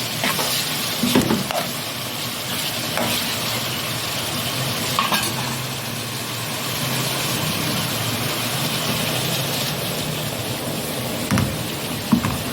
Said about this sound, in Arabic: البطاطس اهي اتحمرت معانا اهي